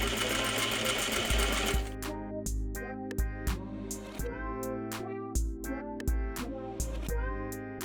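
A sewing machine stitches in the ditch along a bias tape seam on trousers. Quick bursts of close, rapid needle clatter start and stop in an even rhythm, with short pauses between runs and no voices.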